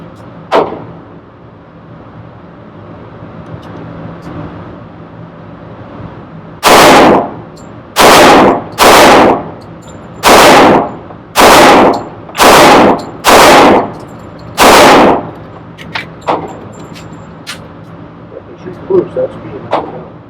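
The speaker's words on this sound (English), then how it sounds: "Let's put a new target up and just see how it'll work with a quick 8 rounds." Wilson Professional .45 pistol fires eight rounds at a target from 12 yards at an indoor shooting center: loud, close, evenly spaced sharp shots, with quiet handling noises before and after.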